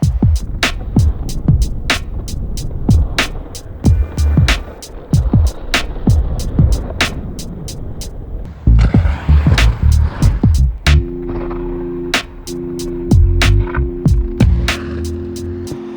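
Aggressive inline skates roll and clack across a skatepark ramp in a rapid run of sharp, regular impacts, then scrape along metal coping in a steady grinding hum.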